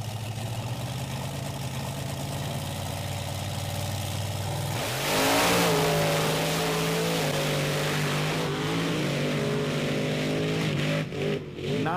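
Monster truck engines at a beach race, loud and near, holding a rough idle before surging into a revving roar that rises in pitch and stays high, with brief dips near the end.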